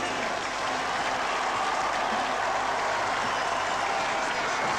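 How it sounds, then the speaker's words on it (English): A Belgian crowd at a Jeux Sans Frontières event in Ghent in 1982 cheers and claps for their Joker, a steady dense wash of applause and cheering that holds for several seconds. "The Belgians cheering the Joker"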